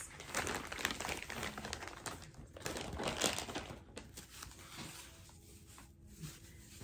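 Thin plastic packaging bag crinkling and rustling as it is handled during a luxury unboxing, soft close crackles in uneven bursts with faint room background.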